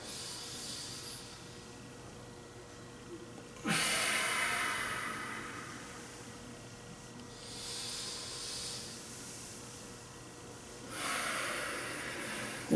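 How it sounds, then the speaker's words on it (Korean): Deliberate breathing during a stretching exercise, three slow, airy hissing exhalations and inhalations spaced a few seconds apart, close and fairly soft over a quiet room. "숨을 내쉬면서, 그 다음에 쭉 올릴 때 들이마시다가 내쉬고 올리면서 들이마시는 거예요."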